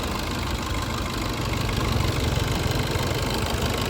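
The diesel engine of a 2016 Swift Dzire ZDI automatic idles steadily. It gives a continuous low, slightly knocking rumble at an even level, close and moderately loud, with no talking.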